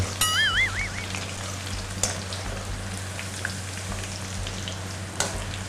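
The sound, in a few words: frying sliced shallots until crispy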